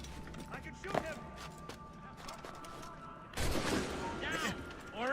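Gunshots in Assassin's Creed Rogue on Xbox 360, a few sharp cracks spread across the stretch amid background game noise, with voices shouting.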